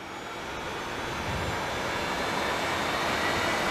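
IAI Westwind 1124 jet engines spooling to takeoff power in a flight simulator, a steady broadband roar that swells during the first second and then holds loud and constant.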